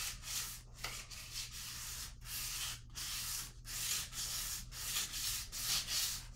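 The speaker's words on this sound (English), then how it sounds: "400 grit sandpaper." A kit guitar's finish is wet-sanded by hand with 400 grit sandpaper, giving rhythmic back-and-forth rasping strokes, close and fairly quiet, over a low steady hum.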